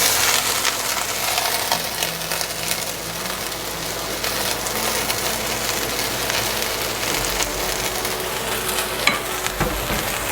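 Cabbage softening in a smoking-hot pan as the filling for pork spring rolls, giving a loud, steady, close sizzle and crackle that runs unbroken throughout, with no talking.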